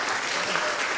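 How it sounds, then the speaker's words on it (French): Audience applause in a church, a dense, even wash of clapping filling a brief one-second moment. "on peut l'applaudir"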